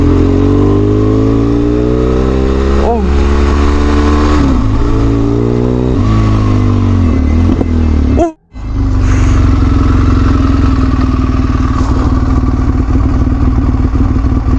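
A motorbike engine revs and shifts through gears at close range, loud and continuous, cutting out briefly before droning on again as the rider turns around and heads back.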